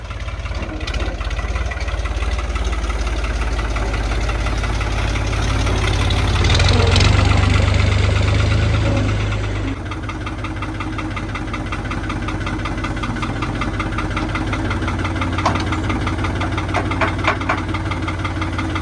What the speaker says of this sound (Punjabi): ਟਰੈਕਟਰ ਵੀ ਕੱਢ ਲਿਆ ਟਰਾਲੀ ਪਾਉਣੇ ਜਾ ਕੇ